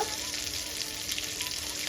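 Chhana (cottage cheese) fritters fry in hot oil in a pan, a steady dense sizzle that holds at even loudness throughout with no talking.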